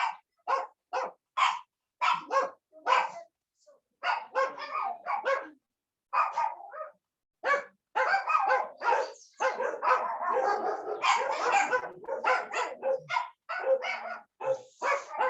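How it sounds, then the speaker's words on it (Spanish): Several small dogs bark excitedly at a rural farm, a dense run of sharp, overlapping yaps and yips that carries on almost continuously at close range with only brief pauses. "se alborotaron los perritos"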